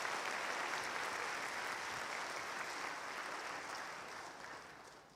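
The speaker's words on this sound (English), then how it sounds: "I think Mr. Kasembe needs another round of applause" At a university spring graduation ceremony, a large crowd gives another round of applause after a final address, a dense, hissing wash of distant clapping that fades gradually toward the end.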